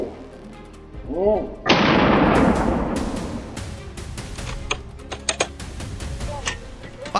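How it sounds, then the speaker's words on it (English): Hunters fire on a wild boar in the field: a heavy blast is followed by a scattered string of sharp, close gunshots that ring out and fade between shots. "gunfire erupted continuously from his teammates' direction"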